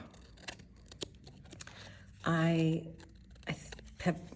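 Scissors trim a paper prompt card with a few quiet, crisp snips spread across a few seconds, broken midway by a short, brief humming tone, all close and fairly soft.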